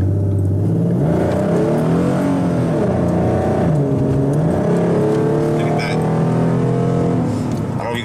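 A Ford Mustang fitted with a Pedal Commander throttle controller revs and accelerates close up, its engine note climbing and falling in repeated sweeps, with someone talking over the engine.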